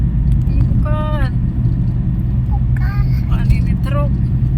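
A truck rumbles past on an Indonesian toll road, a steady loud low drone of engine and tires filling the whole stretch, with children and adults chattering excitedly over it.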